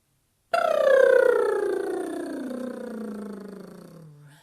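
A sung vocal glide imitates a falling siren, one sustained tone sweeping smoothly from high to low pitch over about four seconds, clear and close with rich harmonics and no talk.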